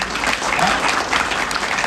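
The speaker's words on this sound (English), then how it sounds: "a big round of applause to everybody who has made this happen" Audience applause at a glamorous wedding collection showcase: dense, steady clapping from a crowd filling the whole moment, loud and close, with no pause.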